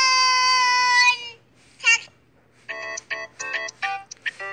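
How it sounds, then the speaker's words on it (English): Alarm ringtone on a Samsung S7 phone, a sustained bright tone followed by a gap and then a string of short chirpy melodic bursts with uneven spacing, clear and close. "That's my alarm ringtone."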